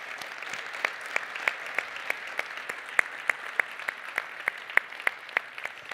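Applause from a sparse conference audience, individual claps clearly separated in a steady rhythm, moderately quiet with no talk.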